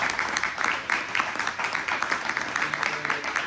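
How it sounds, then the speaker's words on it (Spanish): An audience at a gathering of friends and collectors of luthier-made instruments applauds arriving jazz guests, with rhythmic clapping swelling and dipping in waves at a moderate distance. "está llegando a pedir un aplauso para ellos"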